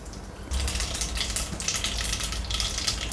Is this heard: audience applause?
no